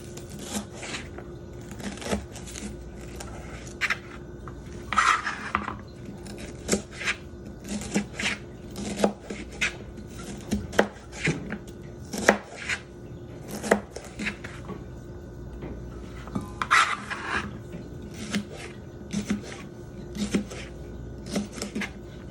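A ceramic Faberware knife chops food on a cutting board in a home kitchen, giving an irregular series of crisp close taps and scrapes spread over twenty seconds, with occasional heavier strikes.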